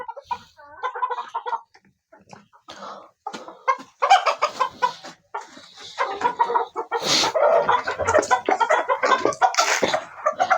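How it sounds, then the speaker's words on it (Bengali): Egyptian Fayoumi chickens crowding at feeding time, a dense flock clucking and squawking nearby in bursts that swell into a loud, continuous clamour. "এই দেখেন খাবার দেওয়ার সাথে সাথেই আপনার মুরগিগুলো কিন্তু অলরেডি ভিড়ে গেছে"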